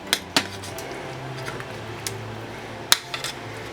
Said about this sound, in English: We'll kind of mix that up and mix it around a bit.